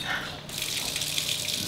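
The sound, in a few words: rain shower head running in a luxury penthouse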